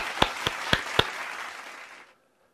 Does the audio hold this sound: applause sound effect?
yes